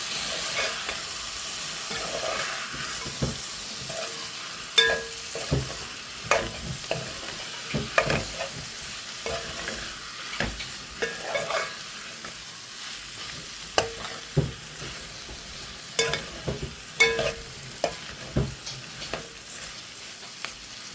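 Spiced masala cooks in a pan with a continuous sizzle, and intermittent scraping stir strokes cluster through the latter half with no talking.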